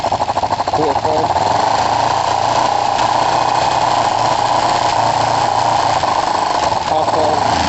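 Kawasaki ER5 motorcycle engine idles with a steady, even putter near the microphone, running continuously with a brief blip of revs near the start and another near the end, after a carburettor issue on the bike.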